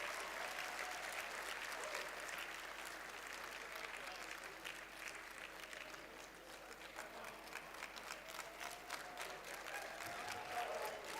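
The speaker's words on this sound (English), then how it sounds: "Please, a round of applause." Steady applause from a large audience at a valedictory session for a retiring Comptroller General of the Nigeria Immigration Service, dense and sustained throughout, moderately distant and even, with no one speaking.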